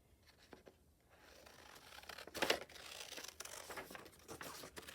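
Scissors cut a flower out of paper for a junk journal, making soft close crinkling and snipping rustles that build from quiet to a louder paper crunch midway, then continue as steady faint scraping with no speech.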